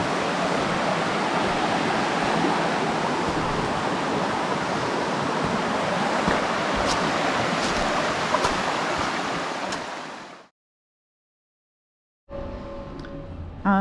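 Rainforest stream near Murwillumbah flows in a steady broadband rush for about ten seconds, then drops to silence before a fainter stretch of water returns with a few tonal touches.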